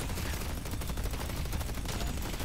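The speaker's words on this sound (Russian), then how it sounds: "Фул обойму всру сюда." Rapid, continuous gunfire from a full magazine emptied into a turret in the video game Deadlock, a loud, dense and unbroken burst of shots.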